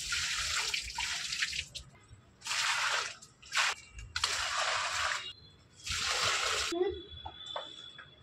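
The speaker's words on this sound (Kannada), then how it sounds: "ಗಿಡಕ್ಕೆ ನೀರು ಹಾಕೋದೇ ಮರ್ತಿದೆ ಇವಾಗ ಗಿಡಕ್ಕೆ ನೀರು ಹಾಕ್ತೀನಿ" Plants being watered at home, with several bursts of water pouring and splashing, each lasting about a second or more with quiet gaps between.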